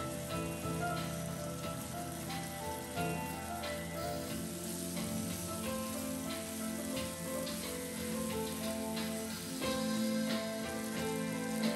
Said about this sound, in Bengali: এভাবে নেড়ে চেড়ে এটাকে খুব ভালো করে ভেজে নিব